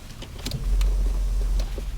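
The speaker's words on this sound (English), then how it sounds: "That's the fuel pump." A steady low electric hum starts partway through and holds, like a fuel pump priming inside a quiet car.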